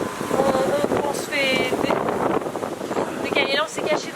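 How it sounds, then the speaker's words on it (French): Strong Mistral wind gusting into the microphone as a continuous loud roar, with people talking over it throughout. "Bon là le vent c'est pas possible. On se fait décaler."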